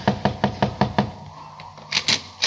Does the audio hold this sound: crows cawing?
no